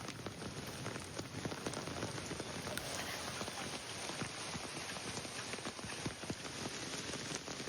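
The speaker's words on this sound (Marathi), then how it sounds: "मुंबईसह उपनगरांमध्ये पावसाच्या सरी बरसलेल्या आहेत।" Pre-monsoon rain falling in Mumbai's suburbs, a steady dense patter of drops on surfaces with scattered sharper splashes, continuous and fairly soft, no voices.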